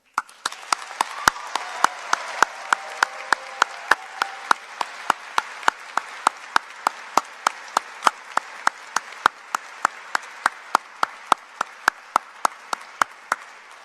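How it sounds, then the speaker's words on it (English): Sustained applause at a medical school white coat ceremony, steady clapping throughout, fairly loud and continuous, with sharp individual claps standing out over the dense roar of hands. "let's really have a wonderful, warm, loud, thunderous round of applause for all our families, loved ones"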